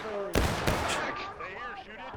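Musket gunfire in the Civil War shooter War of Rights, set on the Bloody Lane map at Antietam: a couple of close, loud shots that crack and then fade into reverberation, followed by voices in the background.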